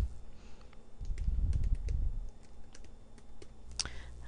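Typing on a computer keyboard: a quick run of light key clicks, irregular but brisk, close up, with a soft thump-like rumble early on.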